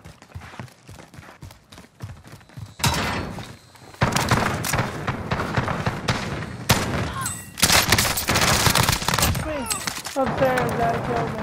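Rapid gunfire and explosive bursts from a shooter video game come in dense, loud volleys, close and busy, mixed with game effects and player chatter over the top.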